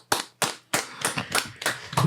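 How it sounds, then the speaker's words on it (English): A few people clap in a slow, uneven rhythm, seven sharp close handclaps spaced roughly a quarter second apart, loud and distinct with no talk over them. "Clap it up, clap it up, clap it up."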